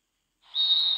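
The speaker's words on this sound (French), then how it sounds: "Et coup de sifflet final" After a short silence, a referee's final whistle at a Euro 2020 football match blows one long, shrill, sustained blast, loud and close.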